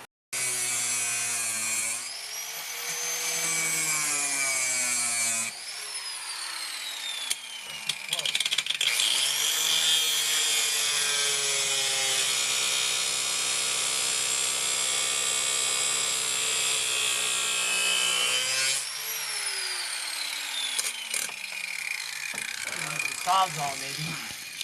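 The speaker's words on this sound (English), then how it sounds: "I'll show you a video here of us grinding off the ends of those bolts because they'd just be in the way" A power tool grinds off the ends of bolts inside a van, loud high whining cuts rising and falling in pitch across several passes, with brief pauses and people talking over it.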